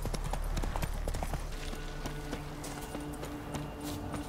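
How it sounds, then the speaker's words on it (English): Horse hoofbeats from riding in The Witcher 3, a brisk rhythmic clip-clop of a galloping mount that settles into a softer trot, steady and close over a low ambient hum. "We ride for the crossroads."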